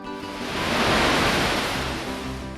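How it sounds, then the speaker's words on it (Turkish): Sea waves break and wash steadily onto a long golden sandy beach at Burnaz, a broad continuous surf roar swelling and easing, close and fairly loud with no voices. "Burada dalgaların huzur veren sesi eşliğinde yürüyüş yapabilir"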